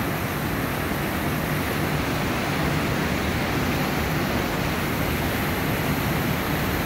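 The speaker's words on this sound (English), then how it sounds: "the falls are right here" Upper Falls on the Amnicon River in Amnicon Falls State Park in winter, near icy formations, roaring as a steady, loud, unbroken rush of water heard up close from a bridge, with no voices.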